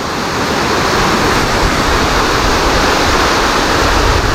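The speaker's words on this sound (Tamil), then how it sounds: "சூப்பர்ன்ட்டார், நல்ல அருவி, சூப்பராக பியூட்டிஃபுல்லாக இருந்துச்சு." Steady, loud roar of a waterfall at Kurusumala, broadband rushing water filling the whole clip without a break, close and continuous, with no voices over it.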